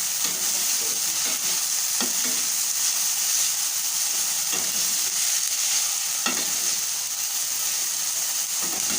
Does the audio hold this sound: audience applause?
no